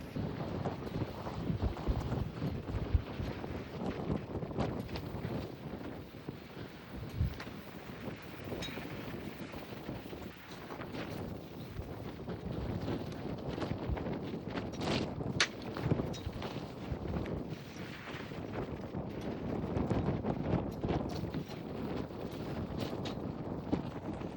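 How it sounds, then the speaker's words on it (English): Gusty wind buffets the microphone in uneven rumbling bursts, rising and falling throughout with no talking. "So definitely a windy day."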